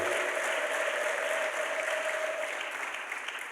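A church congregation at a Sunday worship service applauds together, a dense, steady wash of clapping from many hands that carries on for several seconds and slowly eases toward the end.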